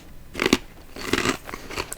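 Crunchy Hawkins Cheezies cheese puffs are bitten and chewed very close to the microphone, with a few sharp, crackling crunches spaced about half a second apart in a quiet room.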